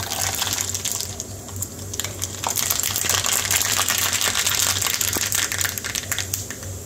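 Mustard seeds sizzle in hot oil in a pan with the gas turned off, tempering for a South Indian hotel-style coconut chutney. A continuous frying hiss is dotted with sharp crackles and pops throughout.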